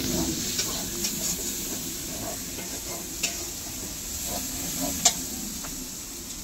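Chicken curry sizzles and fries in a pot over a village cooking fire, a steady low hiss broken by scattered scrapes and clicks of a spoon stirring the spiced mixture.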